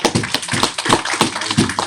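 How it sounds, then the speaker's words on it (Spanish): A church congregation claps together at an afternoon service, a dense, steady patter of many hands sustained throughout, fairly close and with no talking over it. "Vamos a dar un aplauso esta tarde."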